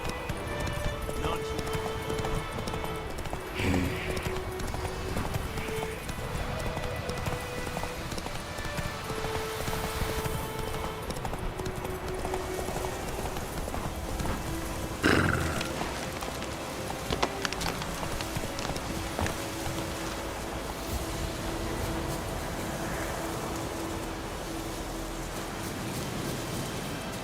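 Roach the horse gallops steadily in The Witcher 3, close rhythmic hoofbeats clip-clopping the whole way through, with a brief neigh, a few thuds and soft background sounds, and a voice speaking once.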